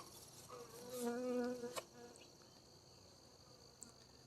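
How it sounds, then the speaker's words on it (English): Honey bees buzz around backyard hives on an overcast fall day, a steady insect drone that swells for a moment close by, then settles into a fainter hum with a couple of small knocks. "the bees are still rocking it pretty well"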